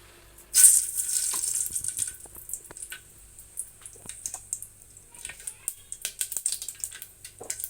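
Chopped tomatoes dropped into hot oil in a pan while cooking Telugu-style chicken pulusu with tamarind, a sharp hiss at the drop settling into a steady crackling sizzle with scattered pops and stirring sounds.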